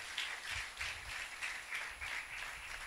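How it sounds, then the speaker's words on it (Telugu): A congregation at a morning fasting prayer meeting claps loudly in a steady rhythmic beat, many hands together filling the room with no other sounds on top. "కొట్టాలి బిగ్గరగా చప్పట్లు."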